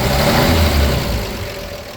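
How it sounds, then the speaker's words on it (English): Close, steady idle of a 1952 Chevrolet 3100 shortbed pickup's engine, a low even rumble that eases slightly toward the end, with no voices. "But man, that engine sounds awesome."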